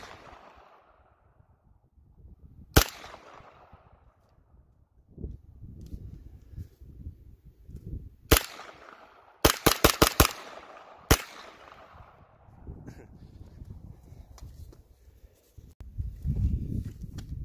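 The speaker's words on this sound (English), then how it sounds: "Felt really good shooting." Several sharp 9mm shots from a CZ Scorpion ring out outdoors: a single shot, then another, a quick burst of about five rapid shots, and one more, each loud and close against quiet background.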